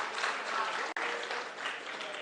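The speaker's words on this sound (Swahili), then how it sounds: "Ya mwisho, simpigie makofi treasury team yote." Sustained applause from a large crowd at a public budget dialogue forum in Eldoret, dense and even clapping with a split-second break partway through.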